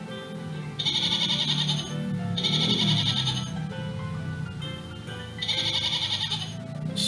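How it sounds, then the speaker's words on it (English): A goat bleats repeatedly in loud, close, wavering calls, with several separate bleats spaced through a few seconds and no talk. "Goat. Goat."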